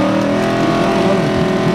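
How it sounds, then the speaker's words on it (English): Front-engine dragster at a Saskatchewan drag race, a loud close engine roar with layered harmonic tones and slight pitch shifts through the whole moment, no talking. "Mr. Lee Mallerud in that front engine dragster."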